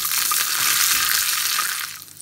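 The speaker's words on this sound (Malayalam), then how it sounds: "കടുക് പൊട്ടി തുടങ്ങിയിട്ടുണ്ട്." Mustard seeds sputter in hot oil for Kerala style sambar, a close, bright crackling hiss with small pops that eases off toward the end.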